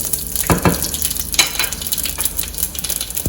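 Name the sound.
shahi jeera, fennel, jeera and bay leaves frying in oil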